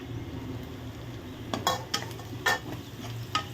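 Curry leaves and green chillies are sautéed with other ingredients in a pan, a low steady sizzle under several sharp scraping stirs and light metallic knocks of a spoon against the pan.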